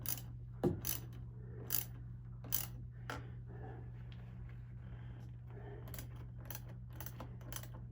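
Tightening the battery hold-down on a 2019 Lincoln Nautilus with a ratchet gives a few faint, sparse clicks and short metallic ticks over a steady low hum.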